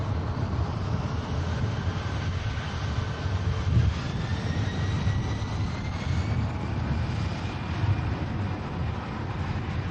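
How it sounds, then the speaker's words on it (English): A Ryanair airliner arriving from Berlin roars steadily as it comes in to land at Manchester Airport, a sustained moderate jet rumble with faint tonal whine and no speech. "So we got a Ryanair in from Berlin, so that's going to be next to land."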